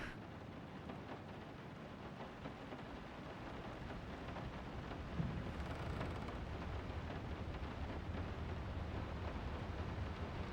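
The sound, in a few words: rain and thunder in video game Layers of Fear Remake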